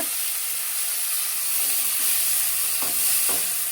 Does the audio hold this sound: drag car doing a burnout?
no